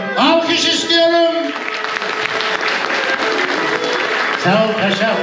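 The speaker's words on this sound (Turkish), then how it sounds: "Alkış istiyorum" Guests at a Turkish village wedding's groom-shaving ceremony clap together in a steady crackle of applause, with voices calling out loudly over it at the start and again near the end.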